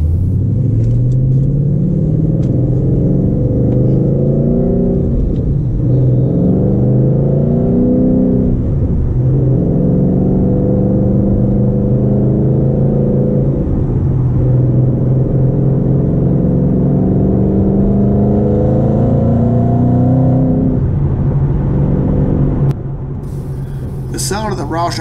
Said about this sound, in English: The sound of the Roush off-road exhaust is my favorite part of this car.